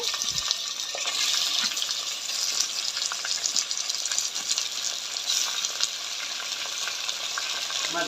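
Goat head meat drops into onions and green chillies fried brown in hot oil, and a loud, dense sizzle runs throughout with bursts of crackling and stirring.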